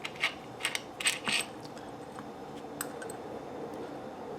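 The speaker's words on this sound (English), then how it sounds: "Now all I have to do is unscrew this bolt" Metal bolt being unscrewed from the stock bracket of a CSA VZ-61 Skorpion, with a few quick ratchet-like clicks and taps up close, followed by faint scattered ticks in a quiet room.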